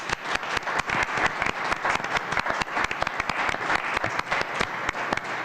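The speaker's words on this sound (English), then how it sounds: "we'd like to give you a round of applause." Applause for veterans at a village board meeting in Homer Glen: a small room of people clapping in sharp, distinct claps, fairly close, with no talk over it.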